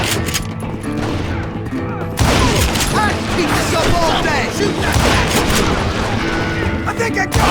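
Gunfire from a Wild West shootout in the video game Call of Juarez, dense overlapping shots and booming blasts crowding together after a brief quieter lead-in, loud and continuous with talk mixed in.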